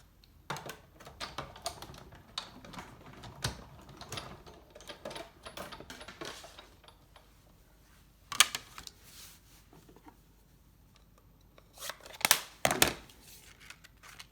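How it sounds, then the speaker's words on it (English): A Big Shot die cutting machine cuts and embosses card, giving faint, scattered mechanical clicks and rattles, with a few louder clacks near the end. "So I'm going to send this through the die cutting machine."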